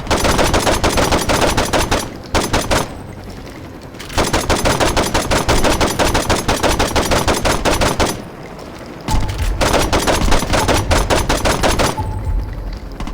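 Bursts of rapid automatic gunfire in the video game Saints Row 2 come in three long, loud volleys separated by short pauses, dense and close.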